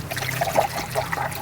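Water trickles and splashes steadily into a food chopper for a brief moment, close by with a continuous liquid pour, while cooking outdoors in the mountains.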